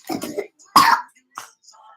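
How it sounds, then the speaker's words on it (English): A few short, rough coughs close by, a throaty burst followed by a quieter one, with brief pauses between. "She's coughing too."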